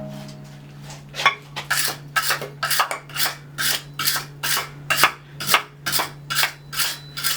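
A wire brush scrubs a hand-forged iron andiron of gothic style, making steady rhythmic rasping strokes, about a dozen close, evenly paced scrapes over a low background hum.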